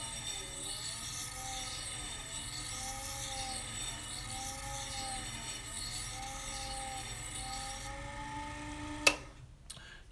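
Shear blade honed on an Ez-Vex No. 1 sharpening wheel, a steady continuous rubbing whir with repeating sweeping tones through most of the clip, then a sharp click as it stops.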